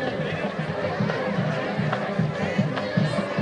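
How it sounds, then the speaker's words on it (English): Home crowd at a Thursday night high school football game, a continuous loud murmur of voices and cheering in a stadium with no distinct words. "So the home crowd, a little bit to cheer about on a Thursday night"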